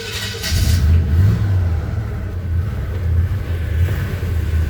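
A 1978 Chevy C10 Cheyenne short bed truck with a new Edelbrock carburetor warms up, its engine running with a steady low rumble and slight rises in revs, close and loud with no talking.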